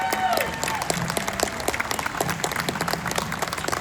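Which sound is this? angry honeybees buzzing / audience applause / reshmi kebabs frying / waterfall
audience applause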